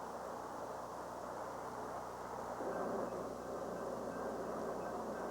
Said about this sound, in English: 8 streamliners pass through Omaha on their way to and from the West Coast